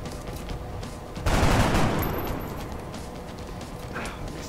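A soldier fires a gun in XCOM, one loud burst of gunfire that decays into a rumbling tail over game ambience.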